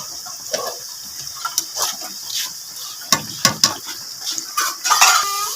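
A utensil scrapes and clinks against a pan as potatoes frying in ghee are stirred, with irregular metallic taps over a steady sizzling hiss, close and fairly loud.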